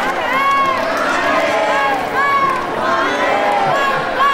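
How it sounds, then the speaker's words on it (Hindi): A dense crowd of devotees chants slogans in a pandal at a Shiv Mahapuran katha in Badshahpur, Gurugram, with many overlapping raised voices forming a loud, continuous roar. "लोगों को देख रहे हो आप रोते हुए और जयकारे लगाते हुए"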